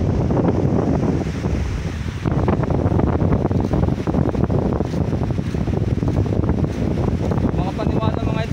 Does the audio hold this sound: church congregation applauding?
no